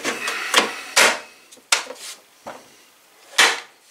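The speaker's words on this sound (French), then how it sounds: "On ouvre ça, il y a un ressort qui va le fermer. On rentre la batterie ici." A battery pushed into a Mastercraft 20 V cordless snow shovel, with a series of sharp plastic clicks, knocks and a spring-loaded cover snapping shut, close up.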